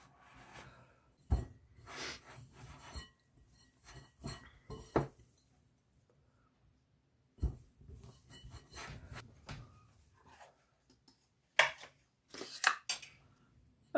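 Hands squish and knead a sticky coconut mixture in a bowl, giving soft, intermittent rubbing and scraping sounds in short bursts, close and fairly quiet, with pauses of near silence between.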